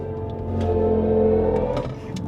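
The synthetic, humming drive tone of a 2024 BMW i5 electric sedan swells and sustains, rising slightly in pitch like a soft futuristic whir, with faint clicks near the end.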